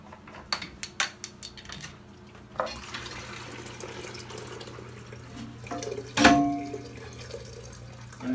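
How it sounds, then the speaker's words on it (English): Water drains from a toilet tank as the fill valve is removed, with scattered drips, clinks and a short louder gush near the end, close and with no speech. "I'm just going to take the fill valve off and collect that water."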